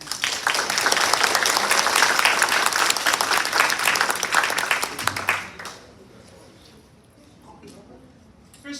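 An audience applauds to welcome Diane to her astrology presentation, a dense roomful of clapping that holds steady for about five seconds and then stops abruptly, leaving quiet room tone.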